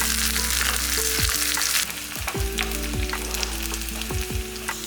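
Shallots, fennel, curry leaves and coriander fry in hot oil for a mutton curry, making a loud, close, continuous sizzle and crackle with a few spoon clinks and no talking.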